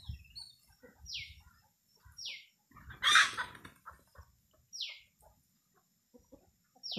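Chickens clucking and calling nearby in short bursts, with scattered quieter clucks and a few bird chirps between them, no talking.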